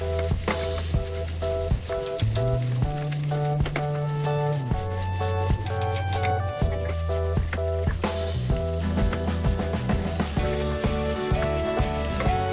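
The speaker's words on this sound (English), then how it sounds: "Stir and stir and stir. This is what fried rice is." Rice and green onions stir-fried over low heat, with a steady scraping and sizzling from the wok that continues under prominent background music, with no talking.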